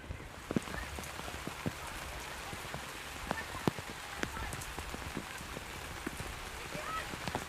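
Steady heavy rain patters on an outdoor soccer field during a youth tournament match, a dense even hiss with scattered sharper drop hits and occasional faint distant voices.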